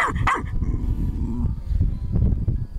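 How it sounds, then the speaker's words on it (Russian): A dog barks repeatedly at a hedgehog outdoors, producing loud, close barks at the start, then rougher yips and growly sounds over steady rumbling background noise. "Злой пес. Не гавкай на ежика."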